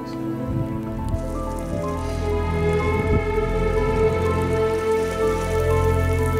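Heavy rain pours steadily in a mountain storm, a dense continuous hiss of drops with gusty wind rumbling underneath, close and fairly loud throughout, with no talking.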